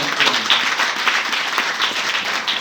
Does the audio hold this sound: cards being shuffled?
no